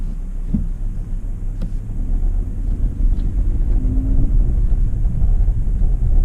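Steady low engine rumble and road noise from a 2020 Audi RS3 being driven with the windows rolled up, a continuous cabin drone with no talk.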